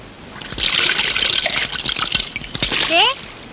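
Water splashes and trickles during a bath, with continuous sloshing and pouring mixed with noise and a short voiced sound near the end.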